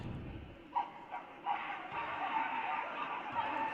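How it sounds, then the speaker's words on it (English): A high school student section barks like dogs in short bursts that grow into a sustained chorus of woofs, heard from a distance in a large gym during a basketball game. "We're hearing some barks from the Creek student section."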